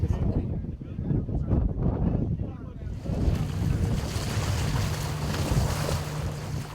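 A boat nearing Soumbédioune fish market on the coast, with loud wind buffeting and rushing waves and surf, then a steady engine drone under the wash of water; faint voices occur.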